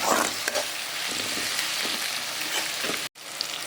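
Dried fish sautéing in a pan with onion, tomato and crushed garlic gives a dense, continuous close-up sizzle with light stirring scrapes, briefly cutting out near the end before the hiss resumes.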